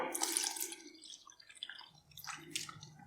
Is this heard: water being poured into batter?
yes